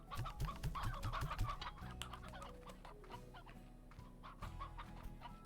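Chickens in a video game farm cluck in quick repeated bursts, a close, busy chorus of clucks over soft game background sound, with no talking.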